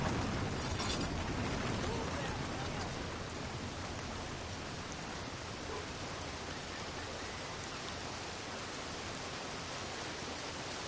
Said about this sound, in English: Yeah, well, it's rain.